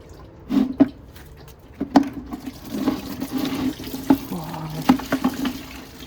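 Coolant draining from the radiator hoses of a Lexus IS300, splashing and trickling into a container up close, with irregular gurgling spurts and drips over several seconds and no talk.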